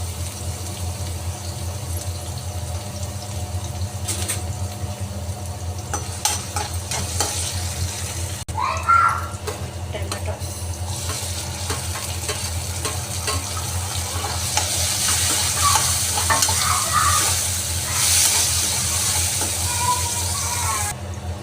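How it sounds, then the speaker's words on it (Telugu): Onions, chillies and carrot frying in a pan for kids' noodles, a constant low sizzle with occasional stirring scrapes and brief clatter, heard close and moderately loud. "ఫస్ట్ ఆనియన్స్ వేస్తాం, చిల్లీస్, క్యారెట్. అది కొద్దిగా ఫ్రై అవ్వాలి."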